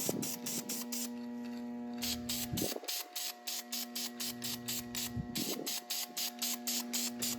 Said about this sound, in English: spraying, making sure I don't paint my painted panels yellow